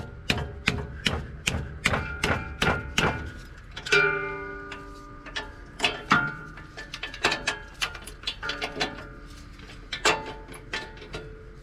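Lug bolts being tightened on a wheel of a 2003 Ram 1500, a fast run of sharp ratchet clicks followed by slower, irregular clicks and clanks, close and clear, with no talking.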